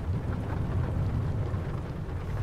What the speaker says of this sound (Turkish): Yağmur yağıyor ki.